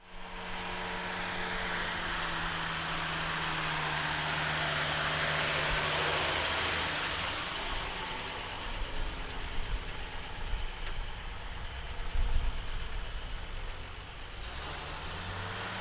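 A 1951 Chevrolet pickup truck engine idles steadily with a low, rough rumble, a slight rise in revs partway through, with no talking.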